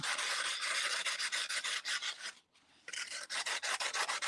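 Sandpaper lightly buffing a surface by hand, a steady run of close, rhythmic rasping strokes with a brief pause midway before the scrubbing resumes.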